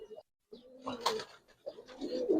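A young Giribaz pigeon gives soft, low coos in short bursts at close range, quiet overall with a brief silent gap near the start.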